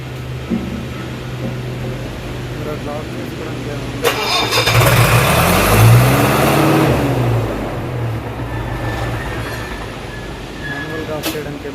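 A diesel fire pump engine runs steadily with a low, throbbing hum, swelling louder partway through before settling back to a constant drone, with faint voices nearby.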